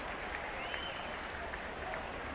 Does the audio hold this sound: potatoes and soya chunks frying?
no